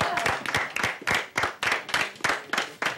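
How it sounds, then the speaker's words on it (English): Martial arts event crowd clapping for a fighter, a small group of hands beating in quick, uneven bursts, close and fairly loud with no talking over it. "Everybody give him a big hand of applause."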